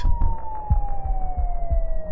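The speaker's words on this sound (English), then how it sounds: "the distant sound of police sirens" A wailing police siren sweeps steadily in pitch, sounding some distance away over a low rumbling background of traffic or wind.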